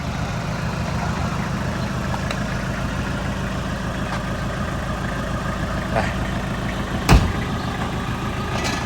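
A car engine runs steadily at low, even revs as staff drive it, a lone bump standing out near the end; a used car with power steering priced around 48,000 baht.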